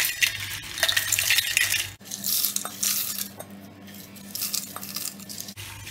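Cooled whole spices for homemade chicken masala powder are tipped into a mixer jar, a run of dry rattling and clattering against the jar, close and busy, with no talking.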